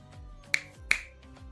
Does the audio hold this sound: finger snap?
yes